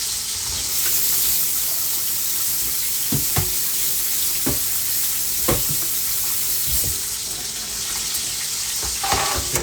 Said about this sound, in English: Once the oil go from like one high sizzle to one kind of one low, almost mellow sizzle